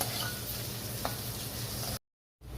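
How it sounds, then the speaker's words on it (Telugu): Paneer pieces fry slowly in ghee with a dense, continuous close sizzle, broken by a short silence before the hiss returns. "పన్నీర్ కొంచెం వేగటానికి ఫిఫ్టీన్ మినిట్స్ పడుతుంది కనుక స్లోగా దీన్ని ఫ్రై చేసుకోవాలి"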